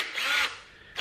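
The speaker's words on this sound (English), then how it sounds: "The second one is a drill" A cordless drill motor whirs loudly for about half a second, winds down, then starts to spin up again at the very end.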